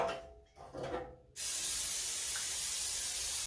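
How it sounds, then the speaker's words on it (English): Cooking spray shot from an aerosol can into a 12-cup cupcake pan: one long, steady, loud hiss that starts abruptly after a second of quieter handling noise and runs to the end. "I don't like paper liners, so I'm just using cooking spray."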